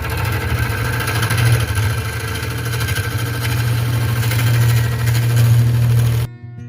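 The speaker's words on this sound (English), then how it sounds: "And now just getting in there with my fingernail gouge here." Wood lathe spinning a stump while a fingernail gouge cuts it, a steady loud motor hum with a continuous scraping rasp of the cut running throughout, then stopping abruptly near the end.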